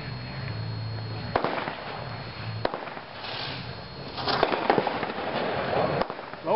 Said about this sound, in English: Next item is Steel Panther, 12 shots